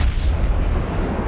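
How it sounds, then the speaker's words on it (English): Naval guns on a tier 7 US Navy Mahan destroyer fire in the video game World of Warships, making a dense, booming rumble that stays loud and steady throughout. "Alright, so I'm getting the guns firing on him."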